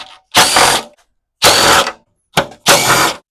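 A ratchet wrench zips quarter-inch bolts off the top cover of a Tecumseh engine on a Toro Recycler mower, four loud close bursts of rapid clicking separated by short pauses, with no talking.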